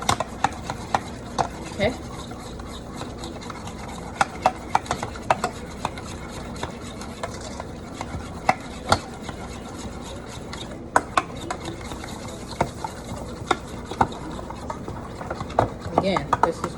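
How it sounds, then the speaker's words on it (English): Spoon stirring a mixture of sour cream, egg and brown sugar in a bowl, giving repeated scraping clicks and knocks in an irregular rhythm, close and moderately loud, with a voice speaking briefly. "I'll probably stir this for about 45 seconds"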